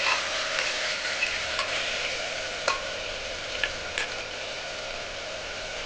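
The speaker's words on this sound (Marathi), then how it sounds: "भाज्या छान तेलामध्ये आपल्याला भाजून घ्यायच्या आहे" Cauliflower and peas roasting in oil in a pan for Vidarbha-style masala rice, giving a steady soft sizzle with occasional stir clicks, close and alone with no talk.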